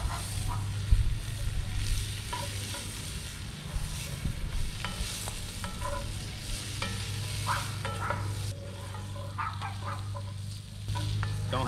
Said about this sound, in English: All we're gonna do is brown these just a little bit. We're gonna throw our butter in there.